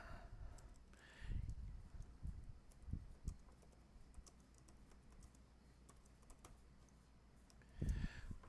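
A computer keyboard typing code, soft quick key taps in short uneven bursts, faint and close in a quiet room.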